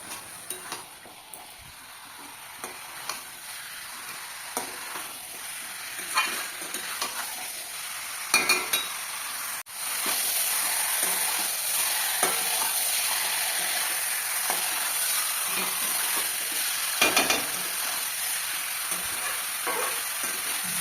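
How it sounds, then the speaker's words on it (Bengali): Spiced meat stirs and fries in a pan, with repeated scraping strokes over a sizzle that jumps louder midway and then holds as a steady, close hiss. "এবার সমস্ত মশলাগুলো মাখিয়ে নেড়ে চেড়ে নেব"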